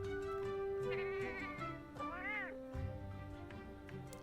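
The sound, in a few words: cat meowing in video game Final Fantasy 14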